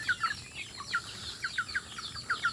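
Hatchling-age chickens cluck and chirp in quick repeated bursts, close and fairly quiet, with no talk.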